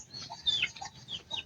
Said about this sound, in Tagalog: Wala, nagwawala na mga manok ko.